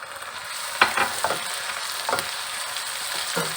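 Minced meat sautéing in ginger garlic paste sizzles steadily in a pan for biryani, broken by several sharp scraping stirs of a spoon, close and loud.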